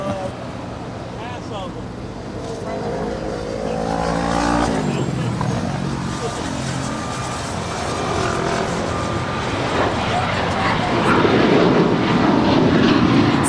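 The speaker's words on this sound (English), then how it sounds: "American Airlines 1932 off to Chicago O'Hare. It is a 5-year-old 737-800." A five-year-old American Airlines Boeing 737-800 departing LAX for Chicago O'Hare rumbles in the background, its engine roar growing louder toward the end, while people talk nearby.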